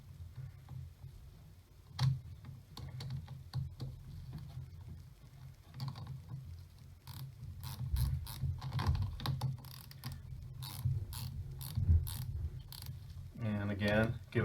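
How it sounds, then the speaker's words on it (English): A 5/16 or 8mm wrench tightens a car battery terminal clamp, producing faint metallic clicks and ratchet-like ticks in short bursts against quiet background noise, with soft handling sounds. "Just use my 5/16 or 8mm wrench"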